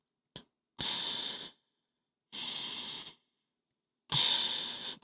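Breath rushes through an MSA Millennium gas mask fitted with a voice amplifier, three long hissing, crackly breaths after a short click, close and fairly loud with silent gaps between them.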